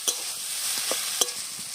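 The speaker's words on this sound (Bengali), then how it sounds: "এই আলু সিদ্ধটা সবটাই দিয়ে দেবো এতে ভালো করে কষে নেবো আলুটা আর মশলাটার সাথে" Boiled potato frying with spices in a kadai, a close steady sizzle broken by a couple of sharp spatula knocks and stirring scrapes, no talk.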